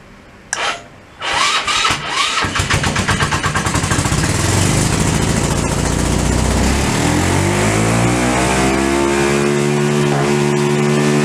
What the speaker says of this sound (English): There should be just enough gas in the carburetor to start her for a little bit.